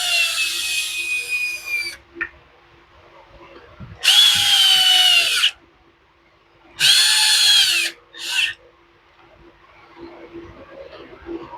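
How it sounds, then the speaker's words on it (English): Troy-Bilt T25 string trimmer's small gas engine starting up, its high buzzing whine revving loud and close in several bursts, each cutting back to a quiet idle between runs. "put some gas in it, and start her up"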